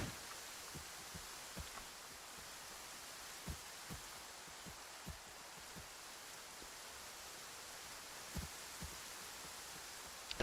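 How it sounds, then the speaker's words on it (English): Steady hiss of rain ambience in Minecraft Bedrock with Dark Fantasy visuals, a broad even wash of falling water with scattered soft low thumps throughout, no voices. "I don't like the rain sound too much"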